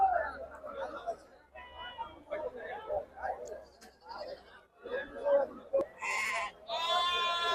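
Goats bleat repeatedly at a busy outdoor sheep and goat market in Chitradurga, loud and close, with several calls overlapping as people talk and bargain nearby.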